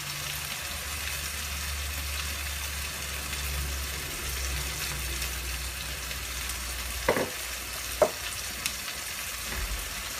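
Chicken tikka karahi masala frying in a pan, a steady close sizzle that runs throughout, with a couple of brief clinks or stirring knocks near the end.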